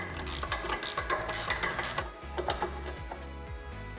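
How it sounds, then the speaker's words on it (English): A socket wrench ratchets in quick repeated clicking bursts, loosening the anode bolt on a Yamaha F150 outboard motor. The clicking is close and fairly quiet, with no voices. "now that our socket has a bite on the bolt, we're gonna go ahead and just start loosening it up"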